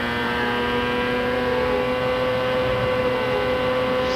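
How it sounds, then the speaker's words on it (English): Juan Pablo Montoya's Indy race car screams flat out at the 1999 Texaco/Havoline 200, a steady, loud high-pitched engine whine held constant at full throttle with a slight pitch sweep, no voices. "Let's listen to Montoya's car here."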